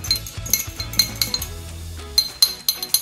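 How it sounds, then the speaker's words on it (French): A small fork clinks and scrapes against a bowl while mixing a dressing with garlic for a salmon bowl, quick light taps and stirring strokes, close and alone. "on va venir mélanger le tout. Donc légèrement avec votre petite fourchette comme ça."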